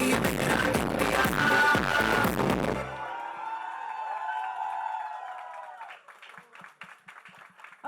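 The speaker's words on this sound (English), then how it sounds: "A big round of applause." Audience applause and cheering at a TV show promo launch event for OMG Yeh Mera India, a loud dense crowd roar that cuts off abruptly, followed by a music-like tonal passage and a few scattered claps.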